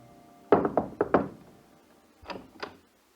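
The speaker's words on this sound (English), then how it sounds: "And the very next morning, I knocked at their door again." Knocking on a door, a radio drama sound effect: four close, crisp raps in a quick cluster, then a pause and two softer knocks, all alone with no talk.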